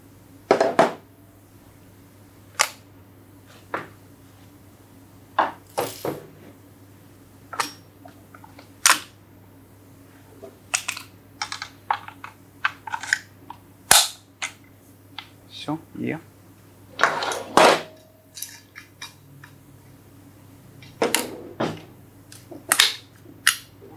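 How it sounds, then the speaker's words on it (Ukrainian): Metal parts of a PK/PKM machine gun clicking and snapping as it is assembled: scattered sharp close clicks at irregular intervals over a low hum, with a voice talking between them. "Все, збираємо кулемет."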